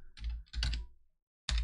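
Keystrokes on a computer keyboard while typing a shell command, heard as two close bursts of dense clicking, a short pause, then another burst, near and fairly loud with no talking.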